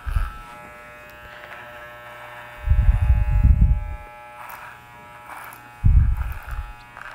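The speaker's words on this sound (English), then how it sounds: "You can also piggyback the clipper to the comb, where the clipper follows the comb" A Leonardo electric hair clipper buzzes steadily while cutting hair, following a comb, with louder bursts as the blades work through the hair at close range.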